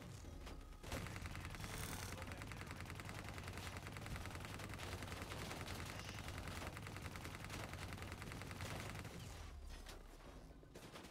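Rapid-fire gunfire from the video game Call of Duty: Black Ops 3, a dense sustained burst of automatic shots lasting several seconds before cutting off, loud and continuous with no talk.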